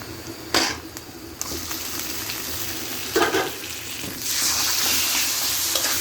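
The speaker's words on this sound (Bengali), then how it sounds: "এখন আমি কচুগুলো ছেড়ে দেবো" Boiled taro pieces dropped into a frying pan of hot oil bring a couple of sharp splashy bursts over a steady sizzle, which grows louder and fuller near the end, with no speech.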